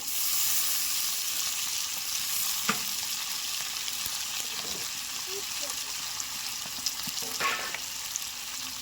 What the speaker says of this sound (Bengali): এই কুমড়োটা বেশি ভাজবো না, হালকা একটু এপিট ওপিট করে নেব